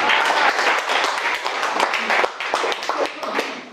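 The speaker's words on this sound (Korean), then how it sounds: "박수 한번 쳐주세요" Audience at a Korean lecture on money and investing applauds, a dense steady patter of many hands clapping for a few seconds, with faint voices underneath.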